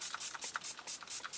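MAC Fix Plus setting spray is misted onto a face in a rapid series of about seven soft, airy pumps, each a brief hiss, close and quiet with no talk.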